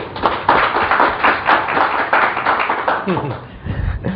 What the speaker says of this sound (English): we gave applause to Pak Juwono and Pak Darmono